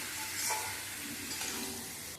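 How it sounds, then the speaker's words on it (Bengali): Meat and potatoes are stirred in a pan, a brief steady sizzle and frying hiss with soft scraping, close by and without talking. "মাংস কষা হয়ে এলে তার মধ্যে আলু দিয়ে নেড়ে চেড়ে"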